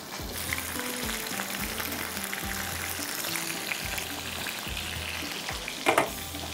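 Green chillies and black pepper fry with spices in hot oil for an Afghani chicken curry, a steady close sizzle with occasional stirring scrapes and no one speaking.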